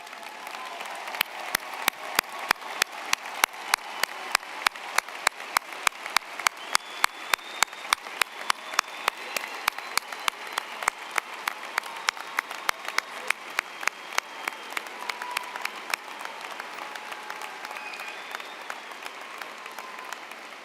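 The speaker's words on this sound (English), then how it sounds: "let's give everybody a round of applause" Audience at a Bettendorf High School commencement applauds military service members who have risen, a dense, steady crowd clapping with crisp individual claps that runs about sixteen seconds before gradually thinning and fading.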